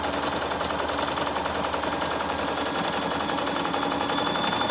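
A sewing machine runs steadily while stitching a decorative stitch along the piping of a purse handle, a dense continuous mechanical whir with fast rhythmic ticking, close and even throughout.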